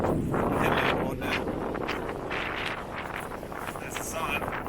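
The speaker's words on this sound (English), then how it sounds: "It is bloody windy." Strong wind buffets the microphone in rough, uneven gusts on a bushland trail among trees on the Bibbulmun Track, rumbling low and loud, with a voice speaking faintly through it.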